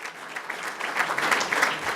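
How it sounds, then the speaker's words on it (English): Audience applause at the City Club of Chicago, a steady two-second burst of many hands clapping, fairly close and even, with no voices on top. "Give him a round of applause for that."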